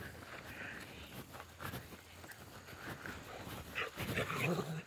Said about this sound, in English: Some fired up dogs there.